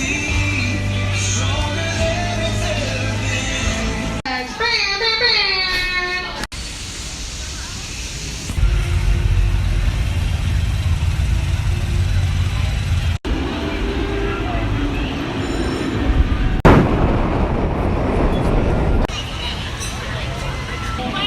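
A classic roller coaster at Six Flags Over Texas rumbles and roars along its renovated track, with loud wind rush, rattling cars and rider chatter and shrieks mixed through the ride, shifting abruptly between segments.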